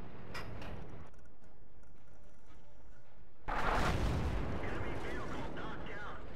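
A tank cannon fires in World of Tanks as a sudden loud boom that rolls into a long rumbling blast, after a stretch of quieter in-game ambience.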